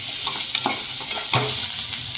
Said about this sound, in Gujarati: ત્રણથી ચાર મિનિટ સુધી કાંદાને શેકાવા દઈશું જેથી કરીને તે પણ સરસ રીતે સોફ્ટ થઈ જાય